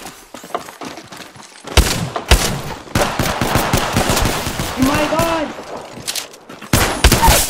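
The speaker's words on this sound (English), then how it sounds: "opening fire" Rapid automatic gunfire from a video game, Apex Legends, in long loud bursts and shorter volleys, with a player's voice talking through the shooting.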